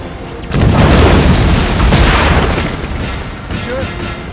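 A grenade thrown by grenadiers explodes in Total War: Napoleon during a battle in Spain. A loud, close boom hits suddenly and spreads into a long, dense rumble of battle noise that slowly tapers off.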